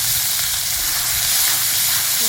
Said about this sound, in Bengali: মশলাটা এরকম ভাজা ভাজা হয়ে গেছে